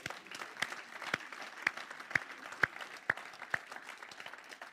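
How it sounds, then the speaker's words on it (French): Church congregation applauding during a French-language sermon; a soft, steady patter of clapping from the room, heard faintly and somewhat distant, with a few sharper claps standing out. "Mais on peut applaudir Jésus pour ça."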